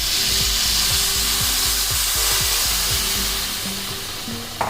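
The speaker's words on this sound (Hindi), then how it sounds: "अब इसमें मैं ये कर्ड डालूंगी।" Curd goes into a pan of lightly fried potatoes for a homestyle UP curry and brings a loud, steady sizzle and hiss, with rhythmic clattering from stirring underneath it, close up and with no speech.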